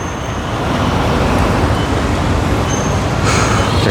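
Busy street traffic in Leblon, Rio de Janeiro, a continuous loud roar of cars passing close by, with a brief higher whine near the end.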